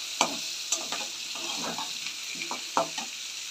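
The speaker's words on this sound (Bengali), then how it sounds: "আলু দিয়ে, পেঁয়াজ দিয়ে, টমেটো দিয়ে আবার ভাজা হচ্ছে" Potatoes, onion and tomato fry in a pan with dry chilli, bay leaf and five-spice, giving a steady close sizzle broken by several sharp scraping stirs at irregular intervals.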